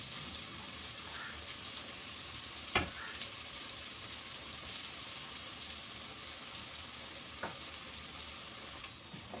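Food sautés in sunflower oil in a pan, giving a faint, continuous sizzle with a couple of sharp clicks or stirring knocks along the way.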